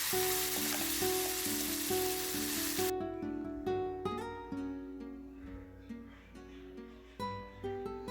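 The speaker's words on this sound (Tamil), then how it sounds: "இப்போ இந்த இஞ்சி பூண்டு வெங்காயம் விழுது எல்லாமே பார்த்திங்கன்னா நல்லா பச்சை வாசனை போகிற அளவுக்கு நல்லாவே வதங்கணும்" Ginger, garlic and onion paste hits a hot pan and sizzles loudly for about three seconds; the frying then gives way to music with a faint sizzle underneath.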